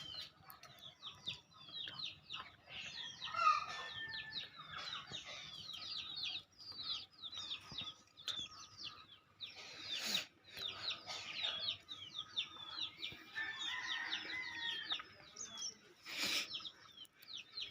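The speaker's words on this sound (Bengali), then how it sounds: "এখানে ডামের মধ্যে কিছু হাইব্রিড কোয়েল রেনু ছাড়া হয়েছে" Hybrid quails in an enclosure in a rooftop garden: a busy stream of rapid high chirps and short calls, faint and slightly distant, with a couple of brief rustling bursts and no talking.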